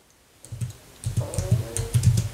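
A keyboard is typed on in a quick, irregular burst of light clicks. It starts faint, then keys are tapped more densely and a bit louder toward the end, with no talking.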